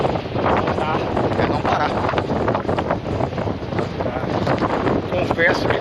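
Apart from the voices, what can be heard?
strong wind on a beach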